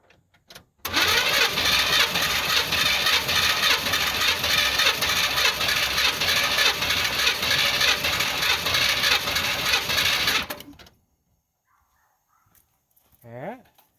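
A 1978 Chevrolet C10 with a 305 V8 cranks over on the starter during a compression test, a loud, steady rhythmic churn lasting about ten seconds before stopping abruptly into near silence.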